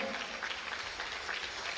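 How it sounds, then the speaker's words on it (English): A crowd applauds for dancers at a university social pow wow, a fairly quiet, distant patter of clapping heard evenly across the moment. "let's give the other dancers a round of applause."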